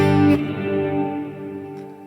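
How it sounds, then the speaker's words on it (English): A sustained guitar note through an Eventide Blackhole reverb pedal on its Slipstream setting rings out after a sharp attack, fading slowly into a long, washy reverb tail with no talking. "Now you hear that sort of weird thing that the reverb does at the end?"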